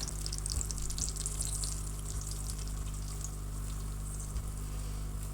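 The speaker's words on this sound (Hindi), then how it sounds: "बेसन को फ्राई करेंगे" Gram flour frying in ghee in a wok on a stove, a steady soft sizzle with a continuous low hiss running throughout, close and even, with no talking.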